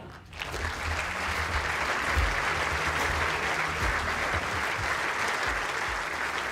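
Steady, sustained applause from an indoor bowls championship audience, a dense wash of clapping that holds at an even level throughout with no voices over it.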